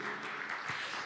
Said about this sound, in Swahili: Pigie Bwana Yesu makofi mengi.